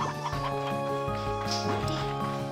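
Chickens cluck in the Slime Rancher 2 video game, short clucks scattered over steady game music and ambience.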